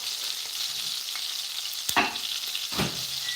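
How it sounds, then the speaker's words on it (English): Fish fries in palm oil for a Ghanaian cocoyam leaf dish, a steady, moderately loud sizzle broken by two sharp utensil scrapes and clinks near the end. "So now I'm frying that fish now in the palm oil."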